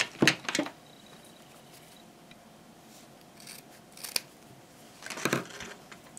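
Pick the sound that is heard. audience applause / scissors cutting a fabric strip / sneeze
scissors cutting a fabric strip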